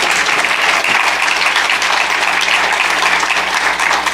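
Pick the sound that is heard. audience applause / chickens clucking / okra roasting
audience applause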